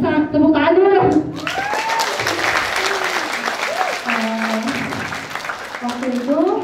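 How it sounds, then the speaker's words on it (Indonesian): An audience breaks into applause after a brief voice at the start, a sustained patter of many hands with a person talking over the clapping at intervals. "Tepuk tangan dulu."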